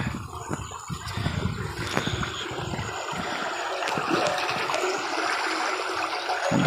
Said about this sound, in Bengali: এখানে পানি নামতেছে